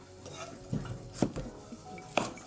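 A knife slices a chayote in half on a cutting board, giving a few sharp cutting knocks and scrapes at close range, alone with no talk.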